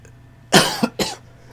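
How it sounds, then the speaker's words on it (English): A single person gives two short, sharp, close coughs in quick succession, loud against an otherwise quiet room. "Sorry if I'm coughing"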